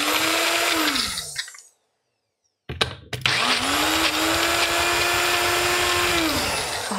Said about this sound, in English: And then all I'm going to do is blend that all up.